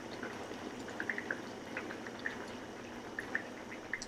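Kimchi jjigae, a Korean kimchi stew with pork bulgogi, bubbling in a pot: a soft, steady simmer with small pops and gurgles scattered throughout, fairly quiet and close, with no talking.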